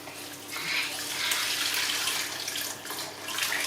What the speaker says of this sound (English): And then I'm going to put my stock in.